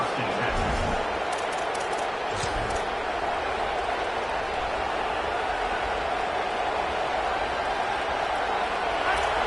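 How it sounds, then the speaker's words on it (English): A stadium crowd at an American football game roars loudly and continuously, a dense wall of noise that drowns out any individual voice. "This crowd, full throat, splitting the eardrums and letting them know it's going to be a long day."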